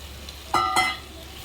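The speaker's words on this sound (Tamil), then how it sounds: "அடுத்ததாக நம்ம கட் பண்ணி வச்சுருக்க எல்லா மிக்ஸ்டு வெஜிடபிள்ஸையும் இதில் சேர்த்துக்கலாம்." Chopped mixed vegetables tipped into a hot pan for sautéing, giving two quick, loud bursts of sizzling and clattering close by, then fading back to a quiet hiss.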